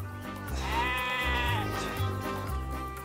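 A sheep bleats loudly and close by in long, wavering cries, with several calls running back to back through the moment; no talk is heard over the animal.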